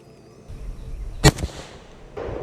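A single sharp SVD/PSL rifle shot rings out in the VR game Into the Radius, a loud close crack with a brief echoing tail, followed moments later by a smaller second report amid low room noise.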